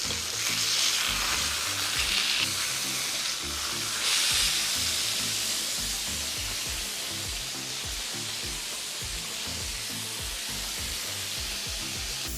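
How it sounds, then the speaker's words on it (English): Freshly flipped burger patties fry in a pan with a loud, dense sizzle and crackle, close up and continuous, swelling in brief bursts early on before settling into a steady hiss; no voices. "Now we're going to flip them."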